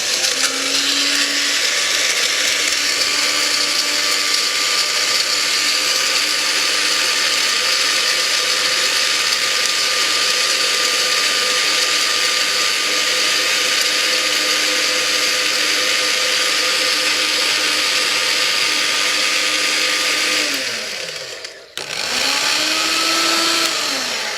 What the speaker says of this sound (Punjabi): ਇਹਦਾ ਪਾਊਡਰ ਫਾਰਮ 'ਚ ਬਣਾਵਾਂਗੇ ਔਰ ਮਿਕਸੀ ਨੂੰ ਸਟਾਰਟ ਕਰਾਂਗੇ